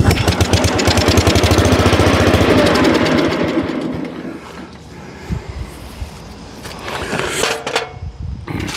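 An antique Wheel Horse 702 garden tractor engine running loud and rough with a rapid knocking chug, then winding down and sputtering into uneven idle clatter with some mechanical clunks.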